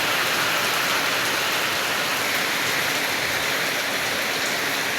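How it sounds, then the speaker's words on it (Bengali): Heavy rain pours down steadily outside a house, a dense, loud, unbroken hiss of drops on surfaces with no voices. "এক ফোঁটা দু ফোঁটা পড়তে পড়তে ঝপঝপাইয়া বৃষ্টি পড়ছে।"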